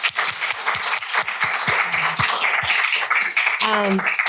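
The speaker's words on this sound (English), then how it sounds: "Can we give them a round of applause?" Audience at a mental health panel summit claps for the panelists, lively applause with distinct close claps and a few voices and cheers rising over it.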